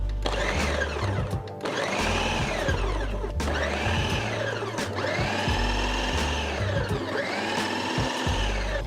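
A food processor purees a jerk chicken marinade in bursts, its motor whining up and easing off in repeated pulses, loud and close with no talking.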